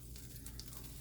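Sisig fries in oil in a pan, giving a faint, continuous crackling sizzle with a low steady hiss and no talking.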